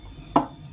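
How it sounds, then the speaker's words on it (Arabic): A single short knife chop cuts through soft dough, dividing small balls of dough for msemen on a kitchen surface; one crisp thud stands out against a quiet background with no voices. "بحال هكا نقطع هاد الكويرات حتى نكمل العجينه ديالي"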